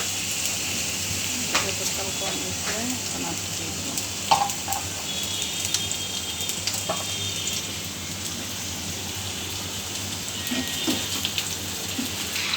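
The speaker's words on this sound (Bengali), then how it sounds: "আমরা এটা 10 মিনিটের মতন ভেজে নিব।" Potato strips for French fries frying in oil over medium heat, a steady close sizzle with a few faint clicks and a brief knock.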